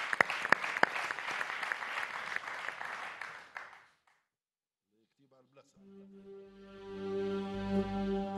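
Audience applause in a variety show studio: steady, dense clapping for several seconds that fades into silence, after which sustained musical tones begin.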